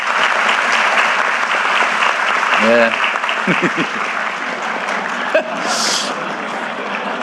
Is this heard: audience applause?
yes